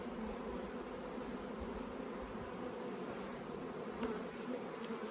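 A honeybee colony drones steadily in an opened hive with capped brood and stored syrup, a dense, continuous close buzz of many bees that holds level throughout.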